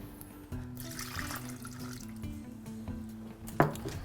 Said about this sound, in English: Adding a little bit more. Again, whisking.